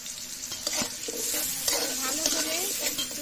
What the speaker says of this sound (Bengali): ভালো করে একটু লাল লাল করে ভেজে নিব।